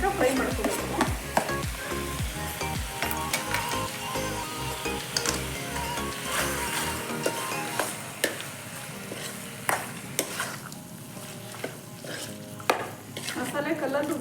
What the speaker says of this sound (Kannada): ಸ್ವಲ್ಪ ಹಸಿ ವಾಸನೆ ಹೋಗೋ ತನಕ ಫ್ರೈ ಮಾಡ್ಕೋಬೇಕು.